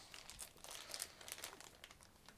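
Plastic bags crinkle and rustle up close during PC building, a quiet, irregular series of crisp crackles and crunches with no talking.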